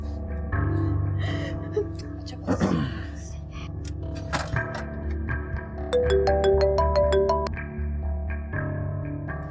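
A telephone rings during a call in a TV drama episode, a quick run of repeated electronic ring tones in the second half, mixed with dramatic music, echoing effects and a gasp.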